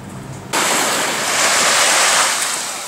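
Strong wind buffeting the microphone over surf on a beach in Pattaya, Thailand, with a roaring, continuous rush that starts abruptly after a quieter moment and stays loud.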